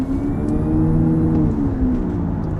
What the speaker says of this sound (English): It almost sounds like it's some type of like turbo 4-cylinder, just electrified.